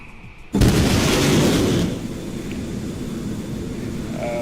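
An F-14 Tomcat breaking the sound barrier in Microsoft Flight Simulator sets off a sudden loud sonic boom, a sharp bang that roars for over a second before settling into steady jet engine noise.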